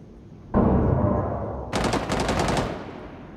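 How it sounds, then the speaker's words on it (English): Sustained automatic gunfire in Rainbow Six Siege, a loud continuous stream of shots that shifts into a sharper, brighter rapid burst partway through, close and dominant with no talk over it. "They're definitely shooting through over here."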